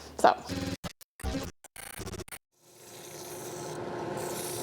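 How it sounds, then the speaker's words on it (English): Steady abrasive rasping of sandpaper on wooden spinning tops, continuous and fairly close, beginning after a few short bursts of scraping and knocking, in a woodturning workshop. "I'm currently in the process of sanding these spinning tops"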